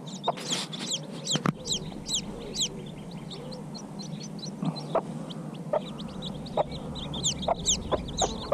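Chicks freshly hatched from laying-hen eggs, a cluster of high, rapid cheeping peeps repeating throughout over a steady low background hum, close and fairly loud, with no voices.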